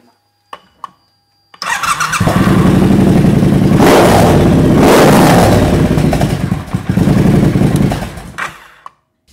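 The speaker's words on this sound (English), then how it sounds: "got the exhaust note I wanted, and it sounds good" A motorcycle fitted with a custom exhaust built from an old Norton exhaust catches after a couple of short cranks, then idles loud and close with a rising rev in the middle before settling and cutting off.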